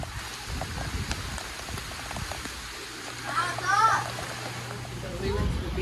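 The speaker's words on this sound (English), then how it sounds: "Woke up to a lot of rain." Steady rain falls at a campground, a constant close patter on surfaces with splashy texture throughout, while voices speak faintly in the background and a brief higher chirping sound rises near the middle.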